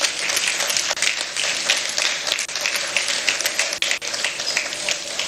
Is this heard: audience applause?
yes